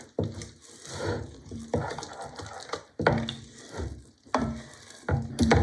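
A spoon stirs vanilla into a thick poppyseed filling for rugelach in a close, quiet series of wet, scraping strokes. Several separate swirls come with short pauses between them, and no one speaks.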